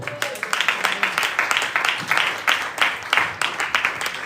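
A church congregation loudly acclaiming the Lord during a prayer and fasting programme, with a dense, continuous swell of cheering and clapping that rises and falls in repeated bursts, mixed with voices.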